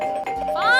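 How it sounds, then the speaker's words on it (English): Cartoon doorbell chimes ring out in quick succession, bright, electronic and close, with a rising warbling tone at the end, alone without speech. "So I'm gonna play with your doorbell until you pay up."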